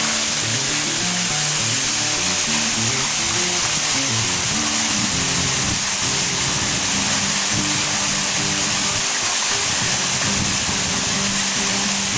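Steady broadband rush of a waterfall on the Rio Higadon on a hiking route near Nerja and Frigiliana, continuous and fairly loud with no talk, water noise filling the whole stretch evenly.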